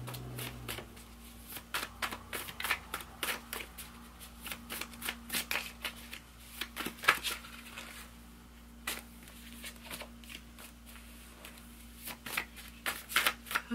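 Tarot cards being shuffled by hand, a steady run of quick papery riffles and soft slaps close to the microphone, continuing in irregular bursts with no talking over them.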